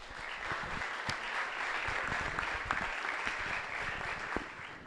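An audience at a book presentation applauds, a dense, continuous wash of clapping with a few sharper individual claps standing out, moderately loud and unbroken for about five seconds, with no talking.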